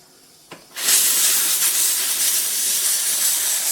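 Steam cleaner blasting grime off an oven rack: a click followed by a loud, continuous hissing jet of steam that holds steady for several seconds, close up and alone.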